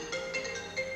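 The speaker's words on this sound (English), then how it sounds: "That's a phone." A mobile phone ringtone sounds as a short run of repeated electronic tones, pulsing at a steady rhythm, at moderate volume, with no voices over it.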